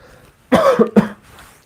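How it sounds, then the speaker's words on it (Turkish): A person coughs, a quick cluster of three hoarse coughs close by, followed by quiet. "ara sıra bazen öksürüyorum"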